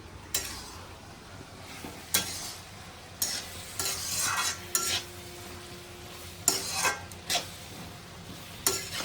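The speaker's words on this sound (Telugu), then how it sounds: "చిక్కుడుకాయ కూరను కూడా మనం కలుపుకుందాము" A spoon stirs broad bean curry in a pan, with repeated scraping strokes and clinks against the metal over a low steady sizzle, close up and with no voices.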